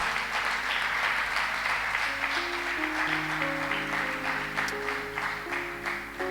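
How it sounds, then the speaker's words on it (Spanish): A church congregation applauds, loud continuous clapping with sustained musical tones, likely an organ or keyboard, running underneath. "Dale un fuerte aplauso al Señor."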